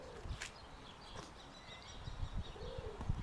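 A common kestrel gives several sharp, high calls at a distance, outdoors near pigeons, with scattered background noise and low thumps.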